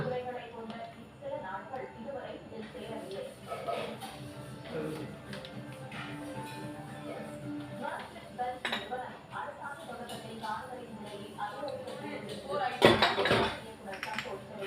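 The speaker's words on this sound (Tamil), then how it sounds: "இது வந்து ஸ்டீலில் பண்ண குக்கர். குக்கர் சூடாயிடுச்சு." Stainless steel pressure cooker heating on the stove and being handled, with soft metallic clinks, taps and a louder clatter near the end, under a person talking.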